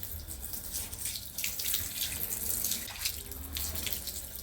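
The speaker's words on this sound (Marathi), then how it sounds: "आधी ओटा धुवून घेते पण चिकूलाही खराब करीत राहते इथं त्याच्यामुळ" Tap water runs steadily while a kitchen counter is washed down, a continuous close splashing hiss with small surges as the stream hits the surface, heard alone without voices.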